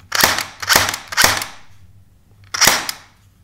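Cyma CM125S mosfet airsoft replica dry firing indoors: three quick sharp mechanical snaps in a row, a pause, then one more crisp snap, close and alone.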